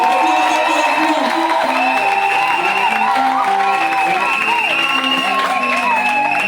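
A church congregation at a wedding service cheering and applauding together, a loud sustained wash of clapping, whoops and shouting voices with some melodic calls mixed in.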